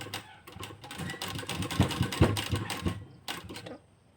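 A sewing machine stitches a blouse in quick rhythmic bursts, its needle clatter speeding up and slowing in close, moderately loud runs with short pauses and no speech.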